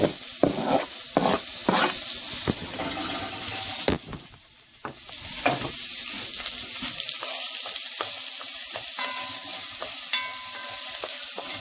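Lamb pieces browning in hot oil in a pot for Caribbean curry lamb, with onions added: a steady loud sizzle and crackle with bursts of stirring scrapes early on, a brief dip in the middle, then continuous frying hiss, no voices.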